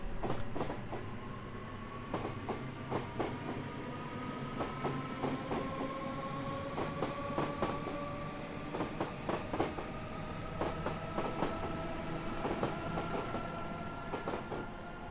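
A train in Train Simulator 2018, an APW Class 315 electric unit, rolls steadily along the rails, with a continuous low rumble, rhythmic clicking over track joints and a faint high whine rising over time.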